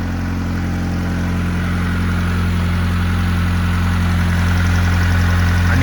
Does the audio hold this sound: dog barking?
no